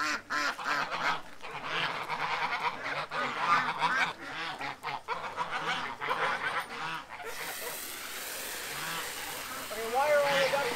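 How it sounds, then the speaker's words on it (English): Ducks quack and honk in a noisy, busy run of calls, with people talking over them now and then. "Why are all the ducks in here?"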